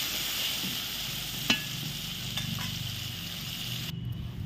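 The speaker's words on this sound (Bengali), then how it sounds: "পেঁয়াজ কুচানোগুলো একটু এপাশ ওপাশ করে নিচ্ছি।" Chopped onions fried in hot oil with chicken and stirred back and forth, a steady close sizzle with a few light utensil clicks against the pan, no voices.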